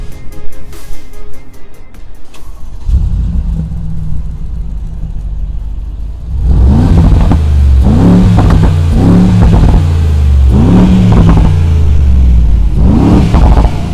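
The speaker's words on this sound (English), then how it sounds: "it's time for another sound check with the BRABUS G800 now from the outside" A Mercedes-Benz Brabus G800 SUV engine revs hard several times in a row outdoors, deep throaty bursts rising and falling over a low idle.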